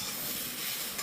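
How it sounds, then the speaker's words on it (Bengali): Papaya pieces fry gently in a pan over lowered heat, giving a steady, soft sizzle with faint stirring scrapes throughout, close and continuous with no talking. "তাহলে গ্যাস কমিয়ে দিয়ে আস্তে আস্তে আস্তে আস্তে ভাজবো"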